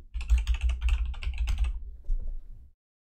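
Rapid clicking keystrokes on a computer keyboard as a password is typed, a dense close burst of taps for about two and a half seconds, then silence.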